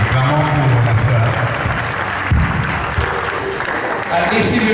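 A church congregation applauds a sister during a worship service, with steady clapping from many hands filling the room and a voice talking over the applause throughout.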